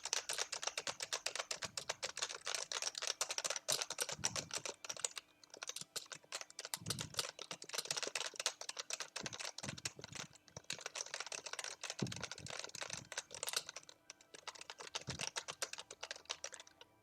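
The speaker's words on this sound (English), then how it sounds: "Bruh is too intensive on the mind, so I'll just hit my keyboard." Steady, rapid typing on a computer keyboard, with dense clattering keystrokes running continuously and close, plus a few heavier key thumps, no voices.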